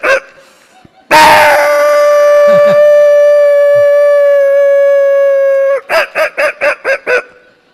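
A man imitates a dog with his voice, giving one long sustained howl and then a quick run of about six barks, loud and close.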